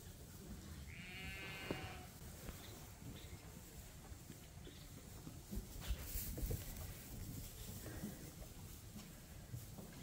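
A single lamb bleats briefly near the start against a steady, noisy outdoor background, with no other clear calls following.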